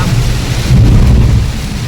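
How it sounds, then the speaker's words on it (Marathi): Heavy rain with a low rumble of thunder while driving down Bhosle Ghat on the Mumbai–Goa highway, a loud, dense, continuous roar up close with no voices. "जोरदार पाऊस चालू झालेला आहे."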